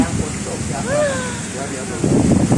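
Strong gusty wind in a rainstorm buffets the microphone with heavy rumbling, swelling again toward the end while a person talks over it.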